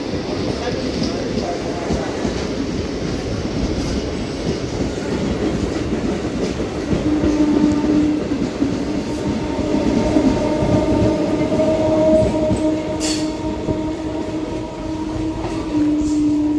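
A MEMU train runs from Machilipatnam toward Bhimavaram Junction with a loud, continuous rumble and rattling clickety-clack of wheels over rail joints, and a brief tonal horn-like hum joining partway through.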